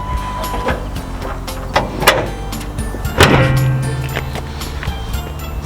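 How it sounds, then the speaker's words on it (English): The hood of a Toyota AE86 comes down near the microphone with a loud metallic slam. Before it come a few smaller clunks and rattles of handling, and a short low hum rings on after the impact. "Now let's close the hood."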